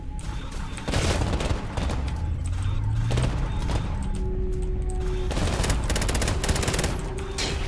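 Rapid automatic gunfire from a weapon in the action game Bombshell, fast bursts of shots over busy game music and effects, loud and continuous, with a few low tonal sweeps mixed in.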